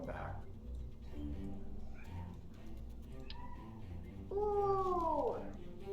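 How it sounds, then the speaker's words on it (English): A pet cat meows in the background, faint calls early on and then a louder, drawn-out meow near the end, while indoor room noise and quiet voices carry on. "you can probably hear a kitty in the back"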